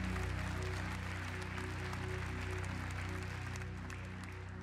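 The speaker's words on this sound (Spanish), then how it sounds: "¿darían un aplauso para Jesús?" Congregation applause for Jesus during a Spanish-language church sermon, a steady dense wash of clapping over a sustained musical drone, fairly loud and continuous throughout.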